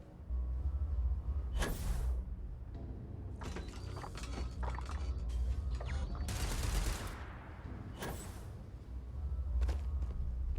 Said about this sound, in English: Once again, I heard gunfire.